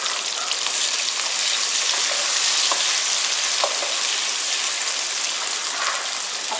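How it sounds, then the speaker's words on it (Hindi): Chopped onions browning in a pan for a potato and brinjal dish: a dense, constant close-up sizzle with occasional small pops and light stirring, no speech. "अब प्याज को ब्राउन करते हैं थोड़ा सा।"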